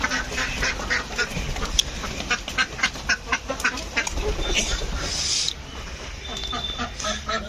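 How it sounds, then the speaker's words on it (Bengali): Many ducks quacking at a duck farm in Bangladesh, a dense overlapping chorus of nasal quacks and honks in fairly rhythmic bursts, close and loud, with faint voices in the background. "অনেক হাঁস।"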